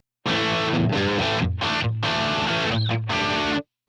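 Electric guitar played through a Line 6 POD Express on a clean-to-crunch amp model with no effects, giving several loud strummed chords and short riff phrases with brief gaps, sounding alone.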